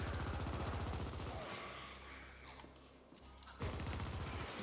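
Rapid gunfire and explosions in the video game The Ascent, a dense, loud barrage of bursts with rumbling blasts in the middle, continuous and close.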